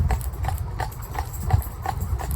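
A cob horse's hooves clip-clop at a steady walking pace, clear regular beats over a low rumble of passing traffic.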